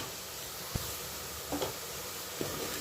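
Onions sautéing in a pan for mutton leg soup give a faint, steady sizzling hiss, with a few soft stirring knocks scattered through it and no voices.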